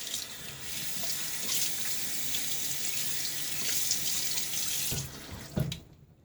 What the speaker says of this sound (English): All right, we'll rinse.